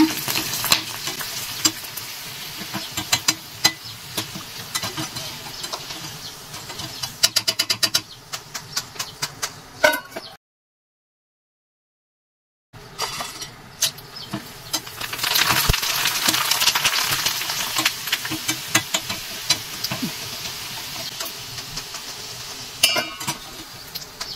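Vathal, sun-dried crisps, frying in hot oil with a steady crackling sizzle and occasional stirring scrapes, close and continuous, broken by a brief silent gap midway, no talking.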